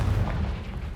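Confringo spell explodes in Hogwarts Legacy: a single deep, rumbling boom that rolls on for about a second, loud and close, with no talk over it.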